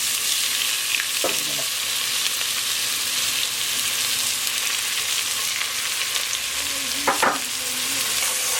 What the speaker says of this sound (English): So we're gonna put the chopped onion.